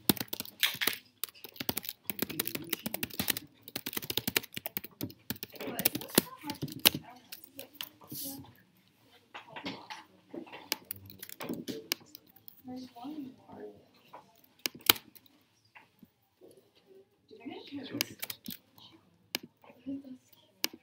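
Computer keyboard typing in clicky bursts of keystrokes, close by, with pauses between runs and people talking quietly over it.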